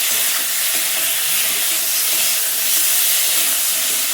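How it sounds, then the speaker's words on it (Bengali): Prawns frying with onions in a hot pan, a steady loud sizzle and hiss that runs throughout with no talk over it. "আগে থেকে আর চিংড়ি মাছগুলো ভেজে নিলাম না, একেবারে পেঁয়াজেই দিয়ে দিলাম। দিয়ে একটু ভালোভাবে কষিয়ে নেব।"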